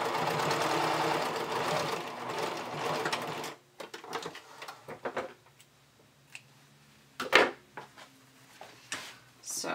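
A sewing machine stitches an underwire bikini top, running steadily for the first few seconds, then stopping; brief clicks and short bursts of stitching follow.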